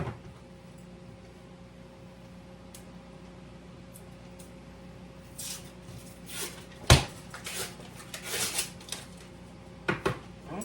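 A can of jumbo flaky biscuits is opened on a kitchen counter, with quiet handling and rustling leading to a sharp pop, then scraping and clattering as the dough is pulled out, with no talk.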